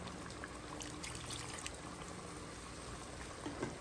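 Chicken dakatine simmers quietly in a pot, a faint steady bubbling and gentle crackle with occasional soft pops, no voices present.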